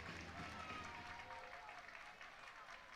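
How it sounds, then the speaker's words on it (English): Crowd applause from the Watchung Hills side at a high school baseball tournament semifinal against Ridge, steady and broad, fading slightly toward the end with a murmur of voices mixed in. "Applause coming from the Watchung Hills side."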